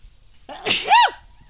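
A single sharp sneeze, loud and close, rising into a breathy burst and ending quickly in quiet surroundings.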